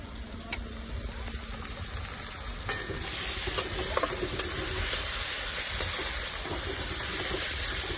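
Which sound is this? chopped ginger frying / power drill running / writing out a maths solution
chopped ginger frying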